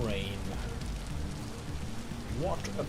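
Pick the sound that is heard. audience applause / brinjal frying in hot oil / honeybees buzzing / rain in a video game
rain in a video game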